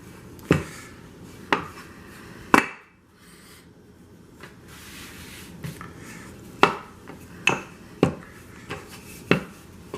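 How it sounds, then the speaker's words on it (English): Homemade flour tortilla dough being rolled flat, with repeated sharp knocks and clacks of the rolling pin against the board at irregular intervals over a quiet background, close and fairly loud. "So I'll just roll them out, get them nice and flat here."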